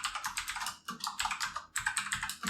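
Rapid, close clatter of a computer keyboard as code is typed, with quick key strikes in bursts and two brief pauses.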